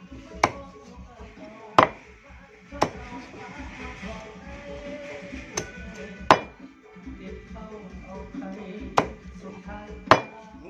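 Rat meat is chopped with a knife for a stir-fried rat dish: about nine sharp, close thuds land at uneven intervals, with quieter handling noise in between.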